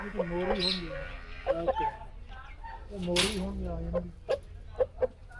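A few soft clucks from roosters roaming in trees at a home with many kept animals come through while people talk nearby, with scattered clicks and thumps in the background.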